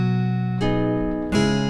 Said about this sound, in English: It's in the guitar section, and it's called Guitar PM Acoustic.